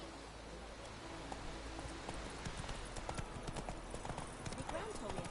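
Roach the horse trotting through White Orchard in The Witcher 3, a steady run of close clip-clopping hoofbeats under continuous conversation and faint ambient hiss.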